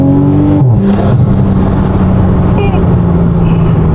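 A Toyota Supra with a louder exhaust roars through a tunnel, heard from inside the car as a loud, steady droning rumble that swells as the engine revs.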